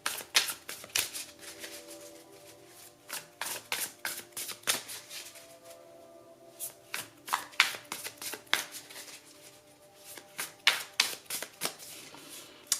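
Tarot and oracle cards are shuffled and handled close up, making repeated soft riffling and snapping bursts in an irregular rhythm, with no talking.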